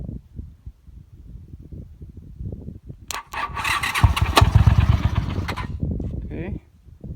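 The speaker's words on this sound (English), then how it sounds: "we're going to jump our solenoid in neutral, or else this bike will jump" A Honda CX650 motorcycle with a petcock fuel problem cranks on its starter through a jumped solenoid: soft low thumping gives way to a loud, close, sustained whirring crank with harsh crackle for about three seconds, then cuts off without starting.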